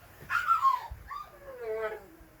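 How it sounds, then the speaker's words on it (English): An excited dog close by lets out a couple of high whimpers and yips, rising then sliding down in pitch, over a quiet indoor background. "that's a crazy dog going nuts"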